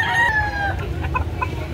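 Roosters at a chicken farm in Carbon, Cebu let out a loud, close crow, with clucking from the flock behind it in a brief burst.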